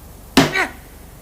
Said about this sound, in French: laissa échapper sa colère en donnant un violent coup de pied dans la roue avant.